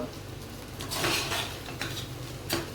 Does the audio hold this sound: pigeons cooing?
no